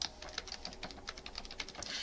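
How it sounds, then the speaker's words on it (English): Computer keyboard typing during a Padlet demonstration, with quick, irregular key clicks pattering steadily and close by for about two seconds against a faint background hum. "And I'm just typing in right now."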